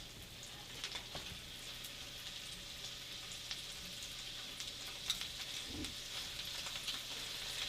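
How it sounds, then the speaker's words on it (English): Sea scallops sear in butter in a hot pan, giving a steady, close, continuous sizzle with faint crackles throughout, no talking over it. "Hear that sizzle? That's what you want."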